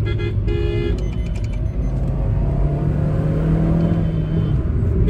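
A car on the road during a test drive of a Tata Nexon Facelift or Toyota Rumion: steady engine drone and road rumble from inside the cabin, with a brief tonal honk-like burst near the start, loud and continuous.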